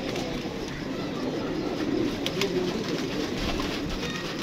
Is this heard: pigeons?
yes